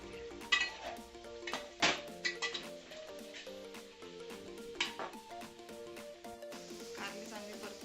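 Bitter gourd sautéing with onion in a pan is stirred with a metal spoon, giving irregular scraping clinks and knocks over a soft sizzle, close by and fairly quiet.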